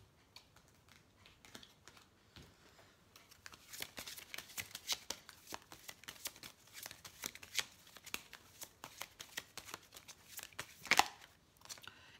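Oracle cards are shuffled by hand before one is drawn, giving a steady run of soft, papery flicks and riffles that grow busier midway, with a sharper slap near the end.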